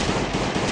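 A short, loud burst of rapid gunfire in the video game Last Day on Earth crackles densely for under a second, with no talking.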